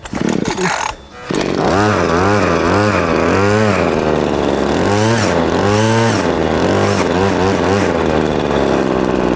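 A Cobra LRH26C petrol long-reach hedge trimmer is pull-started, then its small two-stroke engine catches and runs loud and close, revving up and down repeatedly in a buzzing, rising-and-falling whine.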